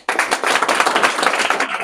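Audience members clapping their hands together at a student event in Bihar, a dense burst of many overlapping claps that starts abruptly and continues steadily at a fairly loud level, with no speech.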